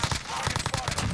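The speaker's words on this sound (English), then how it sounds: "Oh, I got sniped by somebody else." Gunfire in the Call of Duty: Warzone battle royale, with a sniper rifle shot among rapid repeated reports that sound like a burst of automatic fire, loud and close with a voice faintly under it.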